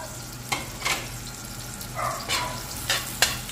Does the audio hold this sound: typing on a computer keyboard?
no